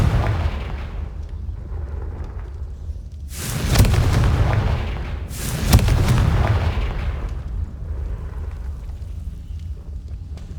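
Confringo blasting-spell explosions in the video game Hogwarts Legacy: two loud, booming blasts a couple of seconds apart, each with a sharp onset and a rumbling tail over quiet ambience.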